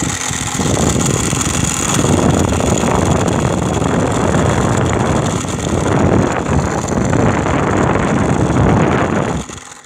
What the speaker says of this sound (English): It's fast. The blower's fast.